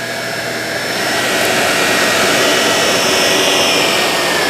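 Shark Navigator Lift-Away vacuum cleaner with its brushroll beating a carpet, a loud, close, continuous motor roar with a broad whooshing hiss that swells slightly and holds steady.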